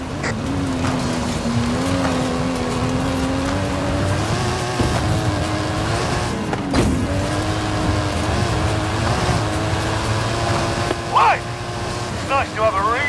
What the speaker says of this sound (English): That stunt vehicle is a Mike Steel Special.